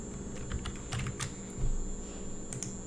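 Light clicks from a computer keyboard as a comma is typed while working in Excel, a few faint scattered keystrokes over a low background hum and a steady high whine.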